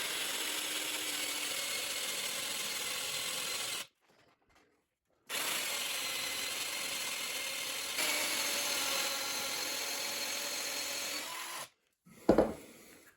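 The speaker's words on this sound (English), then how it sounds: "can stick my drill in here." A power drill bores into a wooden chair leg in two long, steady grinding runs separated by a short silence, ending with a brief sharp burst.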